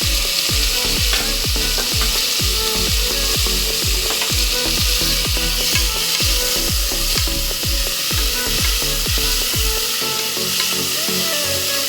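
Small shallots and chopped tomatoes fry in a pan for a mutton head curry, a steady close sizzle broken by regular scraping strokes of a spoon stirring against the pan.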